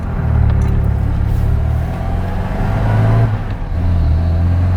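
An MG B sports car with its B-series engine driving along, a deep, gutsy engine drone rising and falling with throttle, heard from inside the car with road rumble and no talking.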